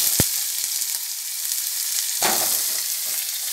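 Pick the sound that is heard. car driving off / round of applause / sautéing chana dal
sautéing chana dal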